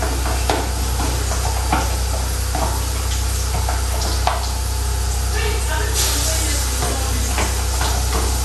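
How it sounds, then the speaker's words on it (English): Egusi lumps frying in oil in a cooking pot give a steady sizzling hiss, with occasional utensil clicks and scrapes throughout. "Scoop it in chunks in it and leave it to fry."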